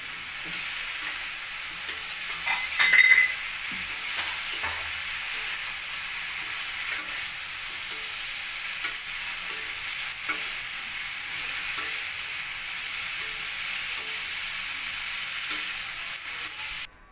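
Vegetable Manchurian balls fry in a pan of gravy for dry veg Manchurian, giving a steady, even sizzle and occasional scrapes and knocks from stirring, with no talk.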